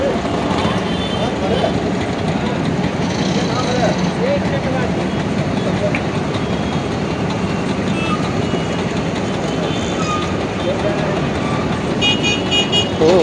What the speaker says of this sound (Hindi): लो भाई लग गया है जाम यहाँ पे